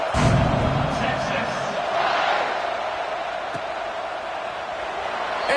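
Stadium crowd at an Ohio State football game roaring loudly and continuously around a kickoff, a dense sustained wall of noise with a slight swell near the start.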